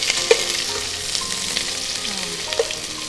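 Chopped onions with crushed cardamom and cinnamon frying in a pan, a soft steady sizzle with occasional small pops and scrapes, fairly quiet and with no talking.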